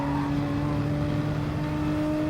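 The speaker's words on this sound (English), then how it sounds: "Just using the downshifts more than the brake pedal to control the car." A race car engine in Gran Turismo Sport at Kyoto Driving Park drones steadily, holding an even, loud tone throughout with a dense layer of road and wind noise and no clear rev changes.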